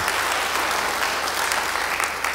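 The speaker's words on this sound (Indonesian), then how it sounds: "Yang percaya beri tepuk tangan bagi dia." A church congregation claps together in sustained, dense applause that stays steady and loud from start to finish, with no voices rising above it.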